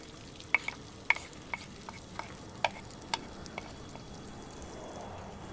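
Ginger, garlic and onion fry in oil for teriyaki elk wraps, a low steady sizzle broken by a run of sharp utensil scrapes and taps against the pan, fairly close and with no one talking.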